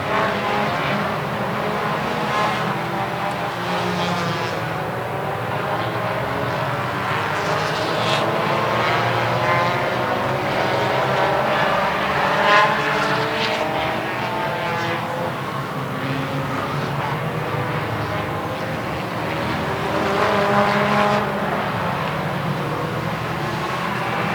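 Race cars lap an oval track at the Daytomah 200 in a continuous roaring drone that swells as they pass. The noise is distant and unbroken, with no voices over it.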